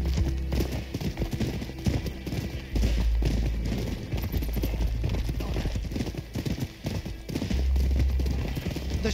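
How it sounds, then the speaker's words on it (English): Horse hooves in the video game Rise of the Ronin pound in a fast galloping rhythm over a low rumbling background, with occasional thuds, fairly loud and continuous. "I have a horse. Come on, horse."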